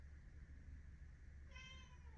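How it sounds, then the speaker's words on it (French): A house cat lets out a single short meow near the end, faint against a quiet indoor background. "j'ai le chat qui miaule"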